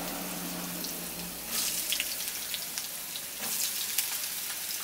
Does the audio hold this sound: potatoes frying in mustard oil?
yes